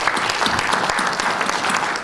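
Guests at a Seoul breakfast seminar applaud a university president who has delivered congratulatory remarks. The clapping is a brief, steady, densely packed burst with no speech over it.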